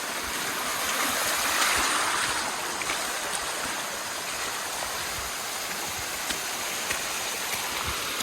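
A river in the Vercors mountains flows steadily, its broad rushing wash holding an even level throughout, with no voices.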